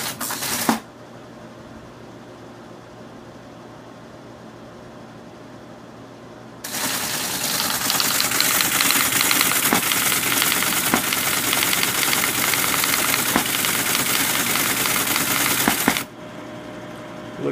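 A Teletype machine hammers out printed output from an Altair 680 computer in a loud, rapid clatter of typing with periodic carriage thumps, preceded by a quieter idling hum.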